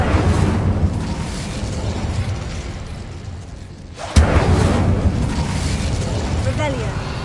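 Incendio fire spell cast in the Hogwarts Legacy video game, a roaring whoosh of flame that builds, dips briefly, then bursts into a loud sudden boom and continues as a sustained rumble, with speech over it.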